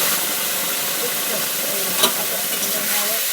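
Drumstick leaf paste frying in a pan gives a steady, close, broadband sizzling hiss for a few seconds, with a single brief clink near the middle.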